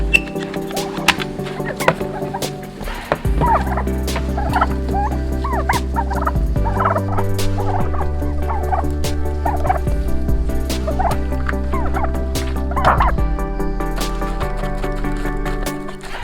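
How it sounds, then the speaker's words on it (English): A group of turkeys gobbling repeatedly over a steady low hum, with a continuous loud background drone throughout. "Come on out, turkeys."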